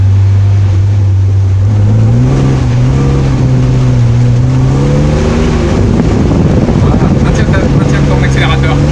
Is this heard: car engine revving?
yes